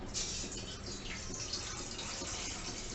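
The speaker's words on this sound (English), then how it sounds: "Now you can add this water." Water poured from a tap into a kadhai or saucepan for cooking prawns in tender coconut, a steady close hiss of running water throughout with no talk.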